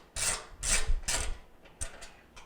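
A mounting screw is backed out of a Jenn-Air/Whirlpool/Maytag stove control panel: three quick scraping, ratcheting turns close by, a pause, then a few fainter shorter turns.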